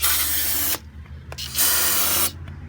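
Two long, loud bursts of brake cleaner spray hiss onto a Mini Cooper engine cylinder, with a short pause between them and a brief tap in the gap.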